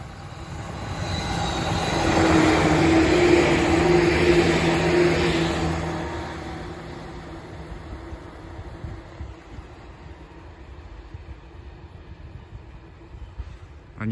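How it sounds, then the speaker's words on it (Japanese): A Seibu line electric train on the Higashimurayama–Seibuen shuttle rolls past near Kitayama Park in Higashimurayama, Tokyo, swelling to a broad rumbling roar with a faint squeal, then fading away into quiet outdoor ambience. "西武沿線の電車が"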